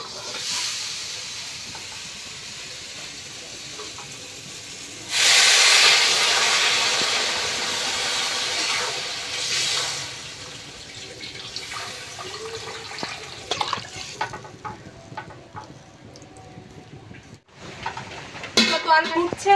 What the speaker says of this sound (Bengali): এবার কিন্তু জল ঢেলে দেবো।